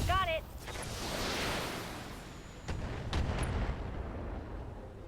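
Short range missiles launching in the BattleTech video game: a rushing whoosh and rumbling volley of blasts over steady low mechanical noise, with a second burst of impacts partway through.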